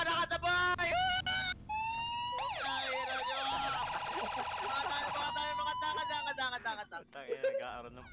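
A police car siren wails and yelps as it passes, loud and varying in pitch, with people talking and shouting over it.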